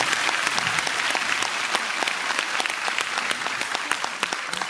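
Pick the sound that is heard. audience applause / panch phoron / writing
audience applause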